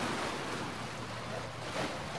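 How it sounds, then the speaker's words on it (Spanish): Ocean surf for a surfboard: a continuous wash of breaking waves and rushing water, steady and fairly close, with wind noise mixed in. "Tabla de surf."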